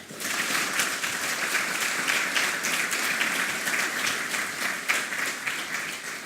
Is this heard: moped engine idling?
no